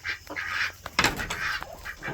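Ducks quack and call inside a poultry house at dusk, a busy cluster of nearby bird voices with one louder burst midway, no talking.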